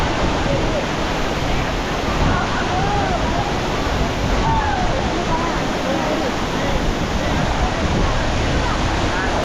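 A waterfall at Bomburu Ella in Sri Lanka gives off a steady, full roar of falling and rushing water that holds constant throughout, with no clear breaks or individual splashes.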